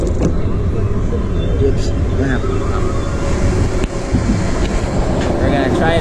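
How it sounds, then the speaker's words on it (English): Expedition Everest roller coaster ride, steady loud rumble of the train cars on track with rushing wind, a brief dip midway, with a person talking briefly. "So right now I'm using my GoPro Hero 5 on 1080/60 to ride Expedition Everest."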